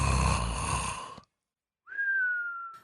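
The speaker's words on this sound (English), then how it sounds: "This refers to the snoring that includes whistling sounds, often due to a particularly narrow nasal passage or blockage." Snoring through a narrow or blocked nasal passage carries a breathy rasp, then breaks off into silence. A thin, steady whistle follows on the next breath and holds for about a second, close and clear.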